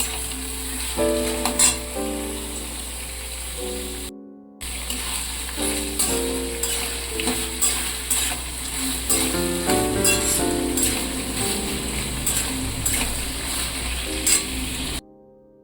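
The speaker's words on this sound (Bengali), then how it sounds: "পেঁয়াজগুলোকে লাল লাল করে ভেজে নিতে হবে" Chopped onions fry in a pan for chicken curry, a loud steady sizzle with periodic stirring scrapes and clinks running throughout, briefly dropping out once.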